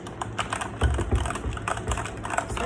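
Someone types briskly on a pink gaming keyboard, producing a steady run of close, clicky keystrokes with a few heavier key hits and no talking.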